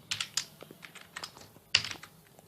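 Keys clatter on a computer keyboard as code is typed for a C programming lesson on logical operators, with irregular bursts of clicks and a sharper flurry near the end, close and alone without speech.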